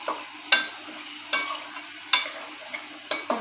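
Rice being stirred in a cooking pot, a series of soft scraping strokes at a slow regular pace over a faint background hiss, close and fairly quiet, with no one talking.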